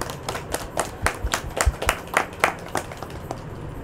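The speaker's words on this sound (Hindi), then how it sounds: "आपके इस ईमान के लिए ज़ोरदार तालियां होनी चाहिए" A studio audience at a Catholic family television programme claps in a loose, uneven patter of distinct individual hand claps, moderately close, thinning out toward the end.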